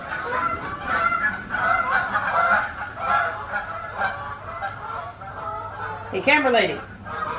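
Geese honk repeatedly nearby beside water, their calls running under a person's speech, with a louder burst of honking near the end.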